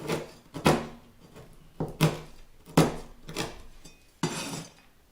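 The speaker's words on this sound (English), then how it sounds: "I'm going to cut this manually. I'm going to show how it will be good. I'm taking a butcher knife because it will be easier to do with this." A butcher knife chops dry fruits by hand on a board with a series of sharp, close knocks at an uneven pace, each hit followed by a brief scrape or rustle of pieces.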